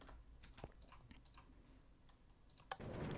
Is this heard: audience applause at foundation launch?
no